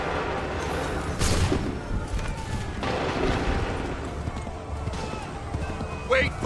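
Musket volley in Assassin's Creed III, scattered crackling shots in a couple of bursts over ongoing voices and background battle noise, moderately loud.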